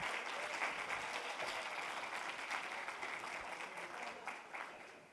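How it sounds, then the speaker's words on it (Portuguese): A church congregation applauds during a family worship service, a faint, distant and steady wash of clapping that carries on evenly and fades slightly at the end. "vamos aplaudir ao Senhor"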